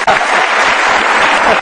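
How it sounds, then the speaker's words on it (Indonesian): Studio audience applauding continuously at close range, a dense steady wash of clapping that holds loud through the whole stretch with no pauses. "kita ada tepuk tangan"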